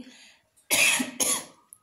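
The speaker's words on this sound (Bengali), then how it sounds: "আমার না একটা খুশখুশে কাশি হয়ে গিয়েছে" Two short, dry coughs close by, one right after the other, in a quiet room.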